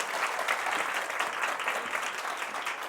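Audience at a Seoul parenting talk concert gives a steady round of applause welcoming a pediatrics professor, dense continuous clapping of moderate loudness for about three seconds.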